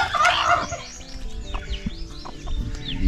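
A native hen clucks steadily up close, with faint high chick peeps scattered around her, continuous and fairly loud across the few seconds.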